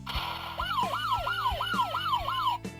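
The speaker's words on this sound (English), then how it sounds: "we're actually going to get a new team sound that we haven't gotten before. This will be like a police siren." A Patranger Sentai Gear toy plays a police siren, a wailing up-and-down tone repeating about six times in quick cycles, loud and close, with short electronic beeps at the start and end.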